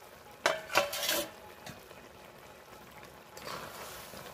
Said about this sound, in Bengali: চিংড়ি মাছটা দিয়ে একটু ভালো করে নেড়ে চেড়ে ফুটিয়ে নিয়েই আমি নামিয়ে নেব